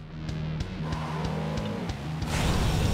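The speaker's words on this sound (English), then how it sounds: "You can use the e-brake to get into a power slide on turns" Car power sliding around a corner in the Jak X racing game, with a loud engine roar, a wavering tire squeal, brief clunks, and a rising skid near the end.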